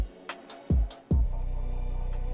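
An instrumental UK drill beat plays from FL Studio with the vocals muted: deep sliding 808 bass hits, sharp hi-hat and snare ticks, and a sustained low bass tone, close and clean with no voices.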